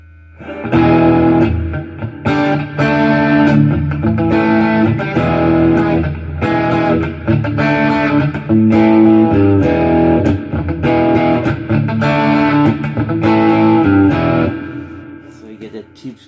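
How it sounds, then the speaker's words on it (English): An electric guitar played through a tube screamer overdrive on a Mooer Black Truck, strummed chords and riffs with a gritty, saturated tone and reverb, loud and steady for several bars. "So you get that tube screamer sound"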